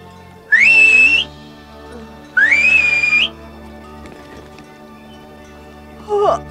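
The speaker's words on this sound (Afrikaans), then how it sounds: "Sy kan selfs deur haar vingers fluit en bokke melk." Two loud, sustained finger whistles from a girl in a mountain setting, each rising sharply and holding for under a second, with a shorter faint whistle at the end; no talking.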